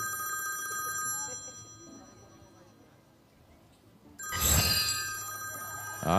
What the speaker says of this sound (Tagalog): Rogelio, Rogelio, telepono.